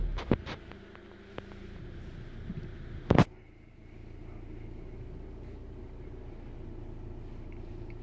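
A 2017 Skoda Kodiaq 2.0 TDI 150PS DSG diesel starting from the push button: a sharp crank burst settles into a steady, low idle rumble heard from inside the cabin, with a few clicks beforehand.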